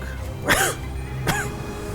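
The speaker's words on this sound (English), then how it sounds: "Also, excuse my cough, that still hasn't gone away yet." A person with a lingering cough coughs twice, two short, sharp, close bursts about a second apart, with no talking around them.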